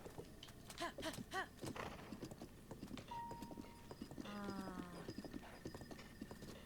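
In Zelda: Breath of the Wild, a horse's hooves clip-clop in a quick, even rhythm. The sound is soft and sits under other game sounds, with a few tonal in-game effects and no talking.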